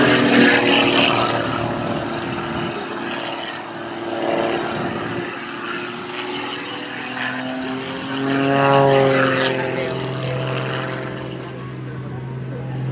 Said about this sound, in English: You can hear that cracking of the propeller when the tips of the blades go through the sound barrier.